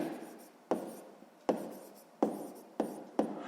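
Pen strokes on paper while working a sixth-grade math exercise: five sharp, evenly spaced taps or strokes, each trailing off into a soft scratching rub, close and quiet with no voices.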